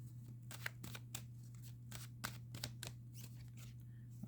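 Tarot cards drawn from a deck, quiet papery flicks and slides in an irregular series of short snaps over a faint steady hum, soft and close with no talking.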